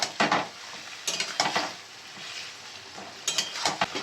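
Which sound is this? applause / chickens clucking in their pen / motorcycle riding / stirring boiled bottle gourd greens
stirring boiled bottle gourd greens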